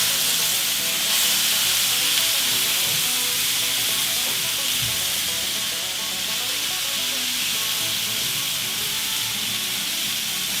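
Sauce hits a hot pan of steak fajitas and vegetables, setting off a loud, continuous frying sizzle with steamy hiss, close up and steady throughout, no voices.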